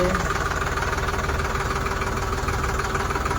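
A new tractor's engine idles close by, a steady throbbing rumble with regular knocking pulses and no voices.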